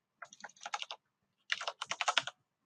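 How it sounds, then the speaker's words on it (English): Typing on a computer keyboard comes in two quick bursts of close, crisp key clicks separated by a short pause, with no other sound. "type your project name"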